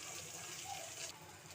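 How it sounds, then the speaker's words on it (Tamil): Water poured into a potato masala curry cooking on the stove gives a brief, soft, steady gushing wash that stays faint and continuous, then eases off near the end. "இப்போ தண்ணி தேவையான அளவு கொஞ்சம் சேர்த்துட்டு பச்சை வாடை போகட்டும் நல்லா."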